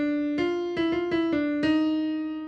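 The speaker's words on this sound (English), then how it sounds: "That's an ornamental trill that spices up the line." Ornamental trill played on jazz piano, a slow alternation of two neighbouring notes struck five or six times, sustained and ringing, close and clear with no talk.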